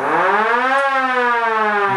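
A small workshop siren winds up quickly to a wailing pitch, holds it briefly and slides back down, loud and close throughout a short two-second burst.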